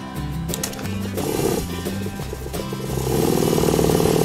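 Electric plant sprayer pump motor, its speed set by a potentiometer, runs with a steady buzzing drone that rises in pitch and loudness as the setting is turned up, with no voices over it.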